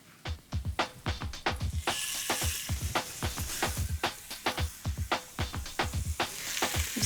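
Beef hitting hot canola oil in a skillet sizzles in a steady hiss, broken by a quick series of sharp knocks and clatters from the pan and utensil.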